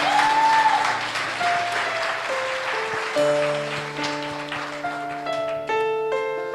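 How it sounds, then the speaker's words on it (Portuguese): Congregational applause during a Portuguese-language church service, steady broadband clapping sustained throughout, mixed with sustained organ or keyboard tones underneath. "Aplauda o Senhor, aplauda o Senhor"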